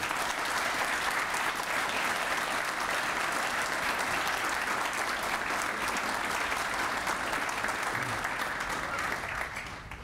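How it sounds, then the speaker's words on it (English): Audience applause at a sports breakfast event, a loud, continuous wall of clapping from a crowd that holds steady for about ten seconds before tapering slightly. "Let's give them a round of applause"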